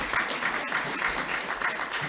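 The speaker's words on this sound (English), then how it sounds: "He deserves a bigger round of applause." An audience at a training session on combating human trafficking breaks into dense, loud applause, continuous close clapping that fills the moment with no voices on top.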